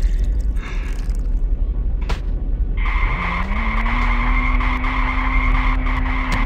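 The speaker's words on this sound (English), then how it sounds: "I'm gonna ride the go-kart again." A go-kart in the game Ice Scream 1 races along with a loud, continuous engine drone that rises in pitch and holds steady, joined by tire skidding and squealing, with no talking.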